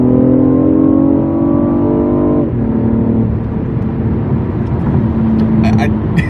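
A Toyota Prius engine straining at full throttle after a downshift, a steady loud drone that drops in pitch as the gear changes, then keeps droning with a few faint rattles near the end.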